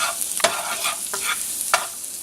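Garlic and onion sizzle steadily in a pan, a bright continuous crackle punctuated by a few sharp scraping stirs, close and alone.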